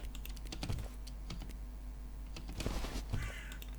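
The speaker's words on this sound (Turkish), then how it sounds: "Karga sesini duymuşsunuzdur" A faint crow caws a couple of times in the background of the video game Age of Civilizations II while computer keys clatter steadily up close.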